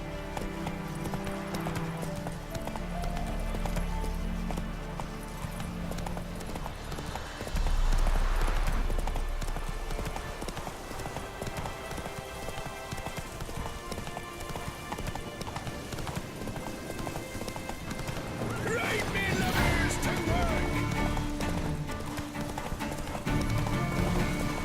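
Horse hooves clip-clop at a gallop in The Witcher 3, a steady rhythmic pounding that runs throughout under game music, with a brief whinny and louder bursts of hoofbeats near the middle and end.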